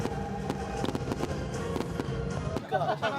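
Repeated sharp fireworks bangs and crackles at a local festival in Cheonan, South Korea, some close together, with a sparkling crackle near the end and crowd noise or talk underneath.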